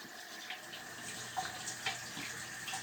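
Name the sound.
rinsing remote control parts under a water tap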